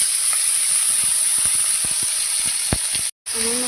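Bay leaves sizzle in hot ghee in a wok, a steady close hiss with scattered small crackles and pops that cuts out abruptly for a moment before resuming.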